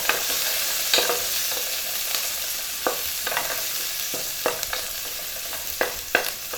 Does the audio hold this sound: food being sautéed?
yes